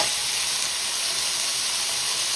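Vegetables for chicken fried rice sizzle hard in a hot pan, a dense, loud, continuous hiss with no pauses, close and steady with no talking over it.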